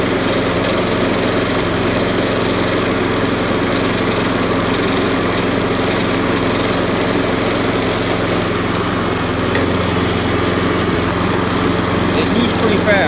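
A 1995 Toro Super Recycler self-propelled rear-wheel-drive lawn mower engine runs steadily and loudly up close, a constant droning hum with no pause throughout.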